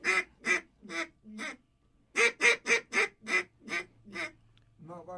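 An old duck call is blown to imitate ducks: a loud, close run of rhythmic quacks, four, a brief pause, then a faster string of eight or so, ending in a short trailing note.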